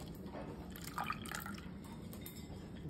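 Water poured into a glass for a red cabbage acid and base experiment, faint small drips and trickles with a brief splash of liquid at the middle, quiet and close, with no talk.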